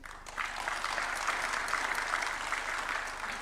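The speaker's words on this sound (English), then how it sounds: "giving a warm round of applause to these distinguished scholars and leaders" An audience at a university charter award ceremony breaks into a warm round of applause, steady and fairly distant clapping from many hands lasting a few seconds without talk.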